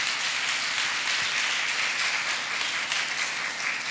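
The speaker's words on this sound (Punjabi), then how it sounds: "ਯੋਰ ਸੇ ਯਿਸੂ ਮਸੀਹ ਦੇ ਵਾਸਤੇ ਤਾਲੀ ਮਾਰੇ" A congregation at a Sunday church meeting claps together, a steady, fairly distant wash of many hands with no voices over it.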